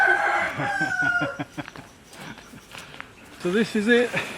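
A rooster crows loudly nearby on a farm where ducks are kept, and other fowl cluck around it. Someone speaks briefly between the calls.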